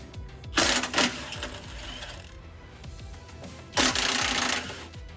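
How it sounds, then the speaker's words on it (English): A ratchet wrench clicks rapidly while removing two 15mm bolts on a Nissan Titan XD, the close mechanical ratcheting interrupted by two louder bursts of motion. "We're going to take these two 15mm bolts out"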